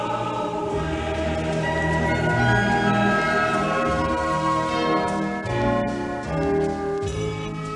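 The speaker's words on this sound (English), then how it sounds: "Just a lonely bell was ringing" A bell rings repeatedly with long sustained tones over a musical backdrop, steady and fairly loud, the resonant strikes blending together.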